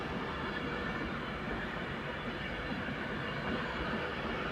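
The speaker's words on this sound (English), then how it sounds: "this Pendolino is suddenly turning up" A Pendolino train pulls into Crewe station, a steady broadband rumble and rush of wheels and motors, fairly faint and distant, continuous without clear breaks.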